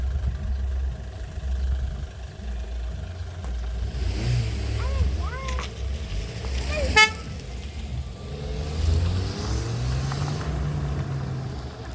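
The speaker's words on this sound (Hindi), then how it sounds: "गाड़ी आ रही किनारे हो" A vehicle comes up a mountain road near the village of Dhamuk Someshwar with its engine rumbling, and a sharp horn toot sounds midway. People talk nearby over the motor noise.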